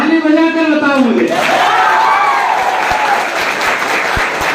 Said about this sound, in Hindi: ताली बजा कर बताओ मुझे